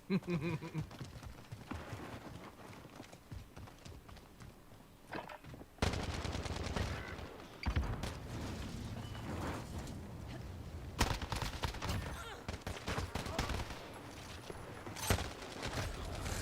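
Gunfire in a video game shooter: bursts of rapid automatic shots and single cracks, loud and close, with dense firing from midway through and short pauses between volleys.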